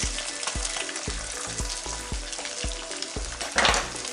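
Beaten eggs fry in a hot pan for an egg lemon noodle dish, giving a steady close sizzle. Regular scraping taps land about every half second, and a brighter burst of crackle comes near the end.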